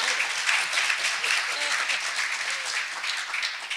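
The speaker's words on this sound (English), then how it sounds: "Please applaud as if I had done a good job." A conference audience at a security applications panel applauds steadily throughout, a dense wash of clapping with faint voices murmuring beneath.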